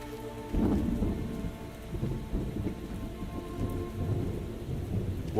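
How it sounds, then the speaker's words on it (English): Heavy rain pours steadily in The Cursed Forest game, with low rumbling thunder rolling beneath it for the whole stretch, loud and close with no voices. "Oh, the rain suddenly came down hard."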